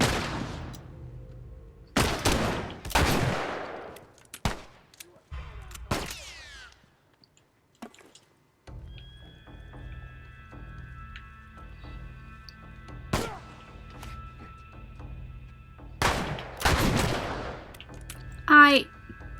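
Gunfire in The Last of Us sounds as scattered loud, sharp shots with quieter gaps and low background rumble, with a voice talking in between.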